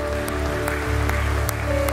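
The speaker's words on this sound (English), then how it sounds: "Let's give God a clap offering." A church congregation at a Sunday morning worship service claps together, a steady, dense round of applause over sustained musical tones.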